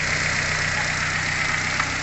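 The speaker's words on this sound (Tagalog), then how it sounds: "Nawala na yung paghinga-hinga ng makina, yung up and down na idling ngayon ay talagang smooth na" A repaired Toyota Altis engine idles steadily and smoothly after a rough up-and-down idle fault, giving an even, close mechanical hum with faint regular ticking and no rise or fall in revs.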